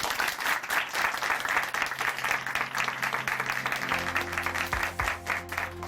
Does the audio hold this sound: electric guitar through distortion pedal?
no